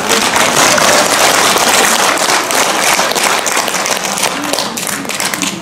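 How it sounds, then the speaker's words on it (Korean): A large audience in a university lecture hall auditorium bursts into dense, loud, sustained applause that fades slightly toward the end. "자기를 기다리는 부모님에게 박수 한번 보내주십시오."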